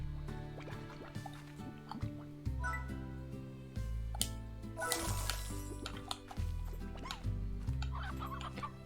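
Clucking chickens in the Slime Rancher video game, heard as short repeated clucks and dripping, liquid-like game effects over a steady background music loop.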